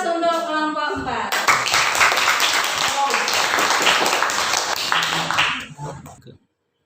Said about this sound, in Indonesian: Kita kasih aplaus untuk kelompok 4.